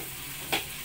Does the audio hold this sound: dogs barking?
no